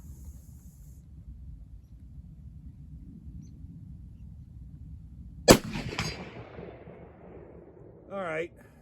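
A Marlin 336 lever-action rifle in .30-30 fires one sharp, loud shot at a long-distance range, its report ringing and decaying over a couple of seconds, followed by a brief fluttering metallic sound; a low steady rumble of wind underlies everything.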